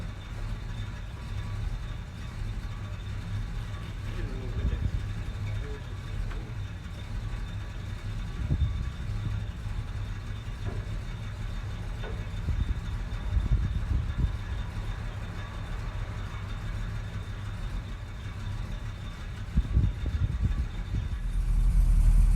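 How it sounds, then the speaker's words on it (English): A Plymouth Barracuda engine idles steadily with a low, throbbing rumble up close, holding an even beat with a few slight surges and hitches along the way. "All right, she's idling pretty good now."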